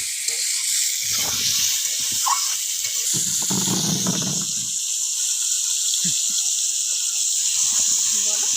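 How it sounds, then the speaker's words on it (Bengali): Desi chicken frying with a pinch of turmeric in a pan, a loud continuous hiss close up, with brief stirring knocks and a voice speaking under it. "নেড়ে নেড়ে ভালো করে লাল লাল করে ভেজে তুলে নেবো"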